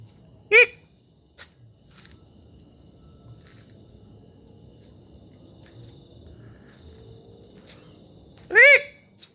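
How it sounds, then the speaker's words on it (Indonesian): An eerie night bird gives short, sharp harmonic "kik" calls, one near the start and a louder burst near the end, over a steady chorus of crickets and insects in the dark. "Seram kali suara burung itu kan."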